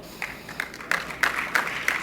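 An audience at a religious speech breaks into applause, with scattered claps coming in uneven bursts and a low crowd murmur underneath.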